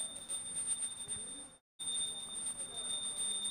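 A hand bell rung during an arati offering at a worship ritual sounds as a steady bright ringing that cuts out briefly midway and then resumes, with faint voices beneath.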